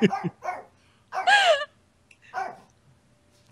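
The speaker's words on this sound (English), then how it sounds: "You can see Brody! Hi, puppy! He's so angry" A dog barks angrily, several sharp, close barks spaced out with short pauses between them, loud and clear, with no talking over them.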